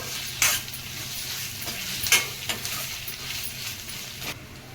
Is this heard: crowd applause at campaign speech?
no